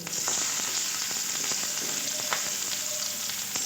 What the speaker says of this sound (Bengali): আলুটা ভালো করে ভাজা ভাজা আগে করে নেব